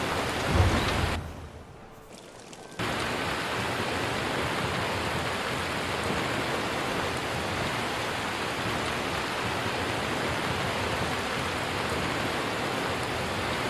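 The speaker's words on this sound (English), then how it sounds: "It's raining hard." Heavy rain in Skyrim, joined by a rumble of thunder near the start; after a brief quiet gap the downpour returns as a loud, constant hiss that continues to the end with no talking.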